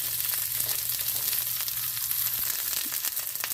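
Italian sausage sizzling in a hot cast iron pan over medium heat, a steady close crackle with occasional pops and a low hum underneath.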